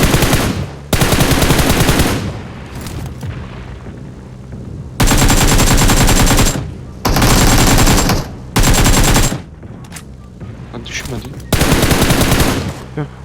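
PUBG Mobile gunfire: loud bursts of rapid automatic fire alternate with quieter gaps, several long sustained volleys and shorter sprays, while players talk over the game sounds.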